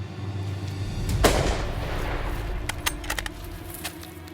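A single sharp rifle shot cracks out during a buffalo hunt, loud and close, followed by a decaying rumble and a few faint metallic clicks afterward, with no talking.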